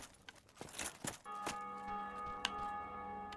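A bell rings out in Dark Souls 1, a sustained metallic tone with lingering overtones that sounds faint under scattered in-game thumps and clatter, with a sharp strike partway through.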